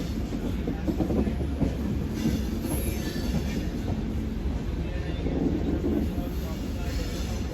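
A train running on rails while rounding a curve on a bypass line built around the Aravali hills in Rajasthan, with a steady, continuous rumble and clatter of wheels up close, carrying on without a break and with no voices.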